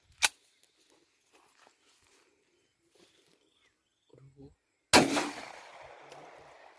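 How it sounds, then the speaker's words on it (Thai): A pistol firing .45 (11mm) rounds outdoors gives a sharp crack early on, then a louder, close blast with a long ringing tail after a quiet stretch with faint insect sounds. "เดี๋ยวลองดูอีกสักหนึ่งนัดนะครับ อันนี้ลูกจุดสี่ห้านะครับ ลูกสิบเอ็ดมม"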